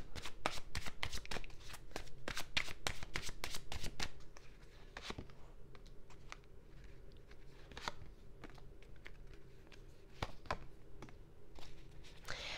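Tarot cards are shuffled for a reading, with quick papery riffles and taps that come dense and loud at first, then thin out into sparser flicks and soft handling sounds.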